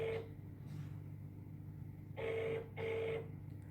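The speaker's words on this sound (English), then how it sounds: "We have a call from May from Zhuhai." A telephone rings for an incoming call on a radio-style phone-in show, two clear electronic rings after an earlier partial one, fairly quiet over a low steady hum.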